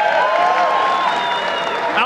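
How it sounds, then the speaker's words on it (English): A boxing arena crowd applauds the referee before a bout, a steady roar of clapping and voices. "When the bell rings, give him a round of applause, Mr. Ron Cunningham."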